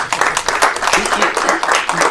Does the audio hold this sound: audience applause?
yes